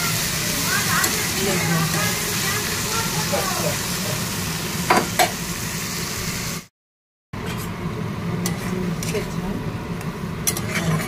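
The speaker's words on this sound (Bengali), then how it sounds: "মাছের ঝাল হচ্ছে, পেঁয়াজ দিয়ে উচ্ছে দিয়ে" Fish curry with onion and bitter gourd fries in a pan with a continuous, loud, close sizzle, broken only by a brief moment of silence, with an occasional stir or utensil knock.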